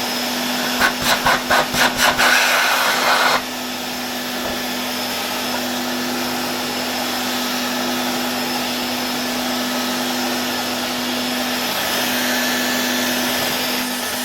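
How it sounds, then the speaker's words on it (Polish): A Hoover Constellation 867A vacuum cleaner, its capacitor removed and plugged straight into mains power, runs with a loud steady whine and hum after a brief stuttering start-up. "możemy zrobić jeszcze raz test tego odkurzacza po wycięciu tego kondensatora"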